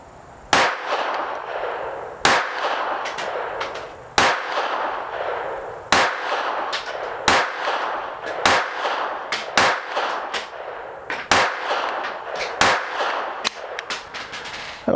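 A Taurus PT 22 sub-compact .22 semi-auto pistol fires Federal standard velocity rounds at a steel target outdoors, about a dozen sharp, loud shots at uneven intervals, each followed by a ringing clang and a short decay, with no talking.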